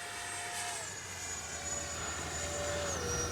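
A Freewing F-14A Tomcat twin 64 RC model jet flies overhead, its ducted fans producing a steady, fairly faint whine and rushing hum whose pitch drifts gradually downward as it passes.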